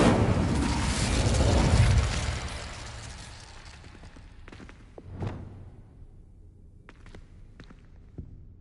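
Incendio fire spell erupting in Hogwarts Legacy: a loud whooshing, roaring burst for about two seconds that fades into quieter rumble, followed by a few faint scattered thuds and clicks.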